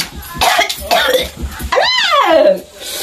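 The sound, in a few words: cough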